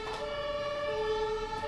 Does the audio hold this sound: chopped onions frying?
no